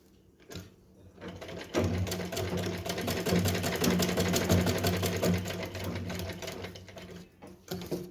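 A sewing machine stitches folded fabric for a small Janmashtami doll dress in one steady continuous run of about six seconds, close and clear, with a brief start and stop.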